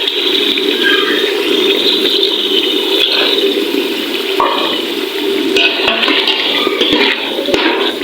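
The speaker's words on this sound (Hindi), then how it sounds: "थोड़ा सा करेंगे इसके अंदर पानी शामिल" Steady hiss and sizzle of water poured into a hot cooking pot with potato, chicken and red chilli, with a stirring scrape and a few clinks near the end; no talking.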